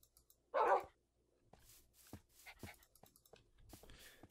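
One sharp, loud bark from a dog in Minecraft, followed by fainter scattered yips and small barks from more dogs nearby.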